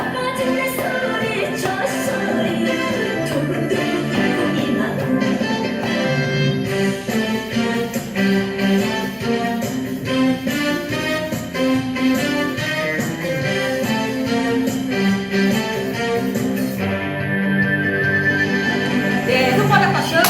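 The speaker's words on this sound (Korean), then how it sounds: "달걀 박수." Hollow, egg-shaped cupped-hand clapping in a seniors' exercise class, a long run of steady rhythmic claps sounding over background music.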